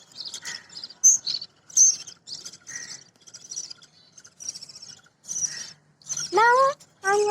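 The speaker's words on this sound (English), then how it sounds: "Now I'm going to demonstrate my birds and tell how they are feeding their baby birds and taking care of them." Small pet birds tending their chicks chirp and tweet in quick, high, scattered bursts, close by, with a few longer sweeping calls near the end.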